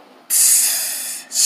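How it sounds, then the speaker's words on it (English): Steam hisses loudly from a just-extinguished fire, a strong continuous rush lasting about a second that fades slightly, then a second burst starts right after. "Steam."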